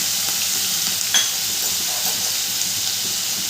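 Garlic paste hits hot oil while cooking Bengali egg curry (dimer kalia) with ground onion, a steady loud sizzle with a brief sharper crackle partway through.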